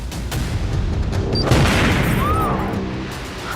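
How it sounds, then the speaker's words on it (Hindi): A bomb blast in a tractor, staged for a TV crime drama, produces a loud, sustained roar of rumbling noise and crackling debris for several seconds, with no voices. "ट्रैक्टर में ब्लास्ट।"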